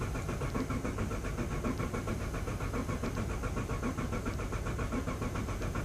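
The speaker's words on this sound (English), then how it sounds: "we're going to give it another try until we build some oil pressure" An LS V8 engine is cranked after a long period of sitting to build oil pressure, and the starter whirs in a steady, loud, rhythmic churn close by without firing.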